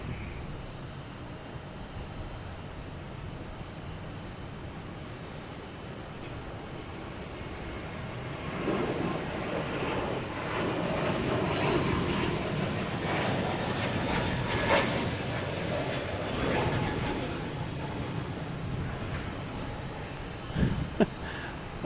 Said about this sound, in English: a JetBlue taking off on 22 right, heading to JFK and A321neo